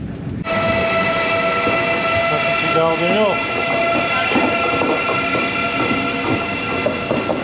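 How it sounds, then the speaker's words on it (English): A train rumbles past close by near the UK–France crossing, with a long steady horn tone sounding throughout and metallic clanks and squeals from the wheels. "By train."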